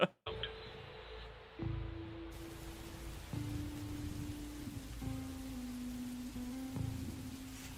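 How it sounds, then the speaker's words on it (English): Steady rain in a TV episode hisses continuously after a brief quiet moment at the start, a soft, even wash of falling water with a faint tonal hum beneath it. "It's a lot of rain in this episode."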